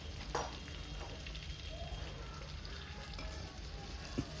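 Potatoes fry and sizzle in hot oil in a home kitchen, a steady close crackle throughout with occasional soft scrapes and clicks from stirring.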